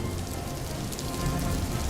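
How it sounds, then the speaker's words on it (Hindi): Heavy rain pours down steadily on crops in the field, a dense, continuous close hiss with no voices. "धीरे धीरे करके बारिश बहुत तेज हो जाती है"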